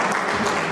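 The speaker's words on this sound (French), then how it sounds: "Applaudissez pour lui, s'il vous plaît, chers frères et sœurs." Audience applause at a fiftieth birthday celebration in a hall, a short dense burst of clapping from a crowd, steady and moderately loud.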